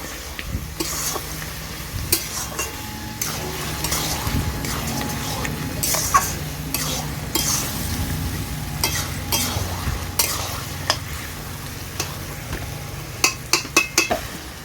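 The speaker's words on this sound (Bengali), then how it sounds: "সব কিছু ভালো করে আবার নেড়ে চেড়ে দিচ্ছি" Taro leaves stirred in a frying pan, with a steady sizzle and repeated scraping, clinking strokes of a utensil against the pan, close and continuous, with sharper clatters toward the end.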